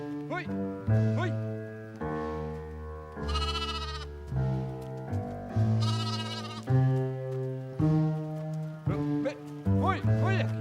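Several goats bleat repeatedly and loudly close by, overlapping wavering cries coming in bursts with short gaps, while someone shouts at them between calls.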